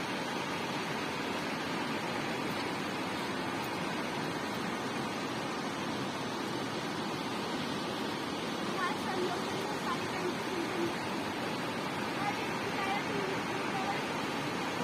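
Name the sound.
water gushing out during heavy rain flooding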